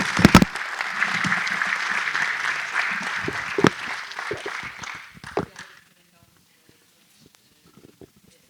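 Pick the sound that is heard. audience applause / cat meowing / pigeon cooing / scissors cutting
audience applause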